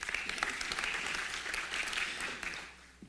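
A forum audience applauds to welcome a speaker on the global EV market, a soft, even spread of clapping from a distance that fades out near the end.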